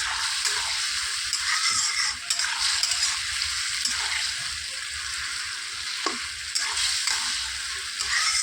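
A pan of potato and ridge gourd curry cooks with a steady, close sizzle and bubbling hiss that runs throughout, broken by occasional soft stirring scrapes.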